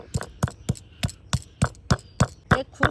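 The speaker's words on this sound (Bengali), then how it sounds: "এবার এই যে আমের আঁটির মধ্যে যে শাঁসটা আছে, এইভাবে ভালো করে একটু থেঁতো করে নেওয়া হবে।" Mango seed kernel being crushed by hand in a kitchen, about ten sharp, evenly spaced pounding thuds in quick succession, close and fairly loud, with no talk.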